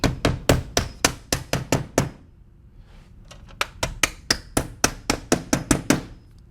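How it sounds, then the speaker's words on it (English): Hammer blows fastening a shim into the channel during top-course cedar siding panel installation, a quick run of about eight sharp close strikes, a brief pause, then another rapid burst of similar hits. "Just install your shim up inside the channel and, of course, fasten it into place."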